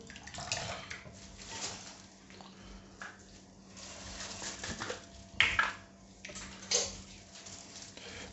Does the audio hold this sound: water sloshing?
yes